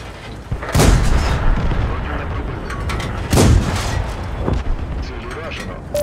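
Two heavy booming tank cannon blasts from a video game, a UC 2-pounder, a few seconds apart, with a dense rumbling background and scattered smaller thuds.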